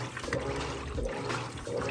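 Kenmore washing machine on a long agitation stroke, churning clothes in water with a continuous sloshing swish that swells and eases, close and alone.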